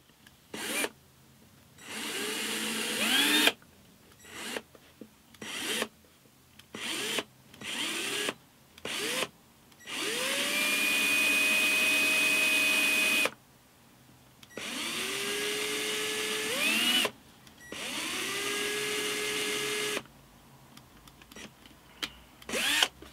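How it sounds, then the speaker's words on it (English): A power drill bores a 2 mm hole in a guitar body at the sound hole, in repeated bursts with spin-up whines and pauses, close and steady. "I'm going to drill the hole here"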